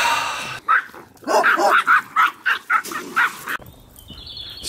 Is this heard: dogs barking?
yes